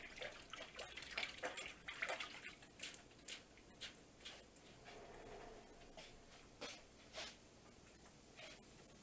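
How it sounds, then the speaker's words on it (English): Tap water runs steadily as hands are washed at a kitchen sink during home cooking, a continuous splashing hiss with scattered louder splashes and clatters, fairly close and moderately quiet. "Wash my hands again."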